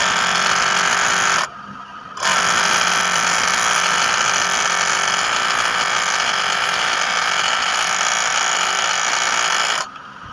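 An overlock sewing machine converted for pico stitching runs steadily, forming a chain stitch with a dense, even mechanical whir. It pauses briefly twice, then resumes at the same pace.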